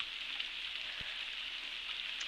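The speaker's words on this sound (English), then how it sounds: "it's raining." Rain falling around an outdoor hummingbird feeder camera, a steady faint hiss of drops with one soft thump partway through, no voices.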